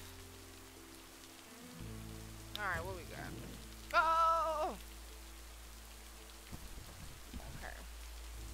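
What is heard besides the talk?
rain in the video game Lake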